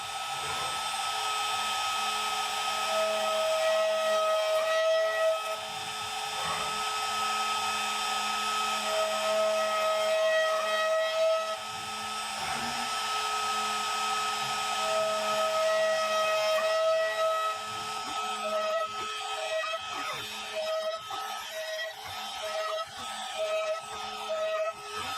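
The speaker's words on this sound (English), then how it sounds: "CNC machining for this part is basically finished now" A CNC machine spirals down into bolt holes, cutting chamfers around them on a prototype HEMA training sword, a high steady whine with tonal shifts and some rattling near the end, close and continuous.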